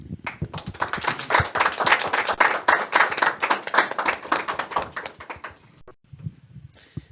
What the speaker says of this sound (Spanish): Agradecemos la oración de Elizabeth Villegas con un fuerte aplauso.